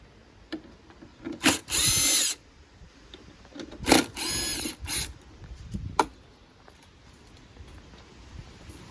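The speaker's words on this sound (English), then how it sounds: "And these are the two other screws that I need to remove." Power tool backing out screws on a 2012 BMW F800R motorcycle, with several short buzzing whirs separated by pauses and faint handling noises, close and fairly quiet.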